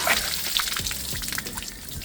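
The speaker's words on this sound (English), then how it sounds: "it's literally just water, so I'm just going to let it flow" Plain water trickles and splashes steadily out of a disconnected bottom coolant hose on a Mazda MX-5, a continuous close wet flow with small drips and gurgles and no talk.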